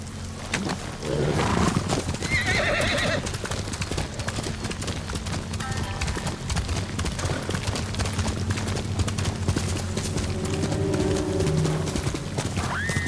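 A horse gallops in the video game Ghost of Tsushima, its hooves drumming in a fast, steady clip-clop that runs throughout. A whinny and some background game sounds mix in.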